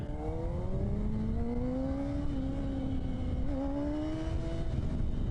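A 600 motorcycle engine that seems to be running rich idles and revs steadily, its droning tone rising and falling gently, close and continuous with no talk over it.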